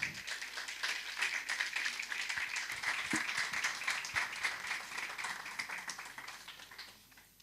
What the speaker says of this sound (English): Please, another round of applause for Mrs. Amagomi